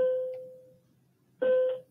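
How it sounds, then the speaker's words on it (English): A bell rings twice, a sustained tonal ding that fades out, followed after a pause by a second louder strike, heard alone in a quiet room. "Sorry for the bell."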